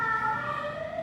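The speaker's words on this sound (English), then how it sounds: "Ambulance right on schedule as soon as I start." An ambulance siren wails steadily, its rising and falling tones loud and close throughout, with no voices.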